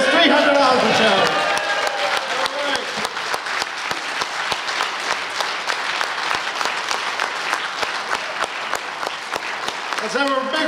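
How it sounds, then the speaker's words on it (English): Sustained applause from an audience at a live charity collectibles auction at a classic gaming expo, dense steady clapping that rises right after a brief voice at the start and continues throughout. "Let's have a big round of applause."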